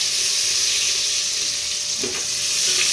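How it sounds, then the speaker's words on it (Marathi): Onion added to masala sizzling in a hot pan for chicken biryani, a steady loud frying hiss throughout with a brief stir around the middle. "मसाला व्यवस्थित परतवून घ्यायचा आपल्याला त्यामध्ये आपण एक कांदा घालून घ्यायचा आहे"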